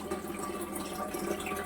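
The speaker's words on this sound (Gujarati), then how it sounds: "તો માટલા ભરીએ." Water pouring steadily into a clay drinking pot in a home kitchen, a continuous close splashing and filling sound with no talking over it.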